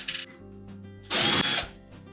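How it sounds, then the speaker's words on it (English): A power driver spins out hex head screws holding the main top of a Whirlpool range, giving two short close bursts of high motor whine separated by a quiet gap. "we're going to remove 2 screws that secure that main top to the body of the range"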